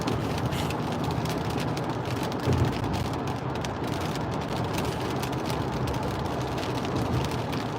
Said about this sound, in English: The rain and the traffic.